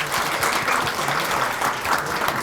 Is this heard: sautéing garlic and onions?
no